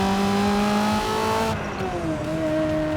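A Ferrari 360's 3.6-litre V8 revs through a loud, close exhaust note, its pitch climbing steadily, then dipping at a shift and climbing again, with no one talking.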